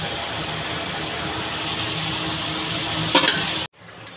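Water poured into a pan of fish and potato curry, cooked with kushi, gives a loud, steady, close hiss and bubbling sizzle that continues for several seconds, then cuts off abruptly.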